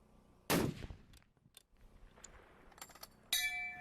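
A long-range rifle shot at a two-mile shooting competition: one sharp, loud crack near the start, then quieter mechanical clicks and a second abrupt burst at the end, with no speech.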